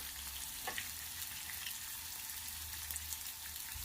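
Curry leaves and onions fry in hot oil, a steady bright sizzle with faint crackles and a low hum underneath, heard close and without any voices.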